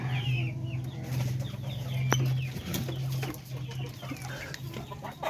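Darag native chicken breeders cluck repeatedly in a farm pen, with short overlapping calls and a steady low hum underneath, one sharper call standing out near the middle.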